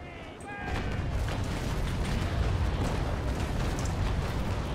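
Heavy cannon fire from a pirate ship's big guns in a naval video game, a dense continuous roar of booming shots and rumble that swells after a quieter start and stays loud throughout.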